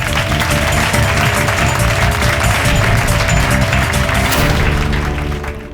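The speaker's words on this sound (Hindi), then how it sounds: "तालियां!" Loud, dense audience applause in a courtroom drama setting, with steady clapping that holds for several seconds and then begins to fade, set against a low musical bed.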